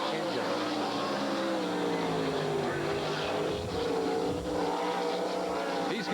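World of Outlaws sprint car with a Carboni-built engine racing around Eagle Raceway, a continuous distant, droning engine roar that stays steady throughout, with no talk over it.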